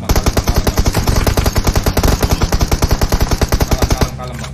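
Rapid automatic gunfire from a shooter video game, a steady stream of loud, closely spaced shots for about four seconds before stopping abruptly.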